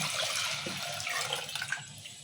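Toor dal being rinsed in water for gongura dal, giving a steady close wash of running, sloshing water with a few small splashes toward the end and no voices.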